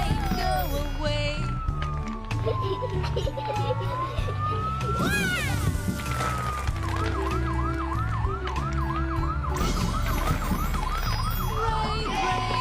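Wailing ambulance siren sweeping up and down in loud, continuous cycles, layered over a busy backdrop of music and traffic with no voices.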